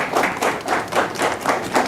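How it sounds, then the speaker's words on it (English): An audience claps to welcome a speaker onto the stage, a dense, even patter of many hands, close and steady for a couple of seconds with no talk. "with a big round of applause"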